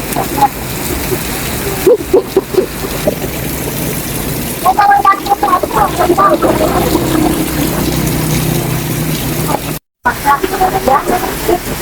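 Steady heavy rain pours down at the Philippine Arena in Bulacan with a dense, hissing wash, while voices talk intermittently over it.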